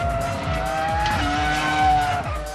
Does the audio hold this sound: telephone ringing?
no